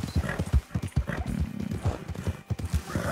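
A horse in the video game Red Dead Redemption 2 trots and gallops, its hooves striking in a quick, uneven clip-clop rhythm at close range, with a brief whinny.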